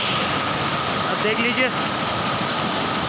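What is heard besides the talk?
river flowing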